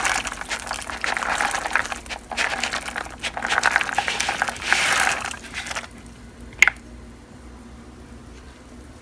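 Dry pinto beans poured into a pot of hard-boiling water make a sustained, close bubbling, splashing rush that fades after several seconds, followed by a single sharp splat and quieter simmering.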